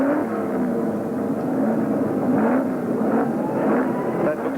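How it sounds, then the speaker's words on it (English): Historic Appendix J touring cars, including a Mustang, roar away from the grid at Calder Park raceway. A dense engine rumble rises and sustains under continuous commentary. "as the field roars away and getting a very good start off the second line"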